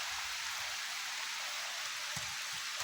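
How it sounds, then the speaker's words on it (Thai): Steady hiss of heavy morning rain falling on a rural farm plot, an even close wash of drops with a few soft low thuds, no voices. "ตั้งแต่มื้อนั้นนี่ฝนบ่ตกเดี๋ยวนี้ตกมือเดียวนี่แหละ"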